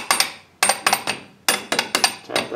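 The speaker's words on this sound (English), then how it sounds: "Tap that bearing up in." A bearing is tapped into the front axle of a New Holland TC33D tractor: about eight sharp, close metallic taps come in small clusters, each ringing briefly and fading before the next.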